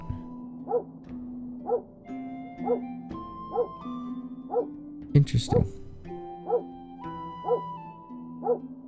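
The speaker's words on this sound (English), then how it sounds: "Boy puppy, you really do make a lot of noise" A puppy barks and yips in a steady series of sharp, close calls roughly once a second, with a brief burst of louder commotion midway and a person speaking softly underneath.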